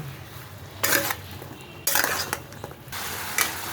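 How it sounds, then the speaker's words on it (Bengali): Bottle gourd tossed in a pan with cumin and coriander powder: three bursts of a spatula scraping and clattering against the metal, each over a soft sizzle, with quieter gaps between. "এখন একটু ভালো করে নাড়াচাড়া করবেন"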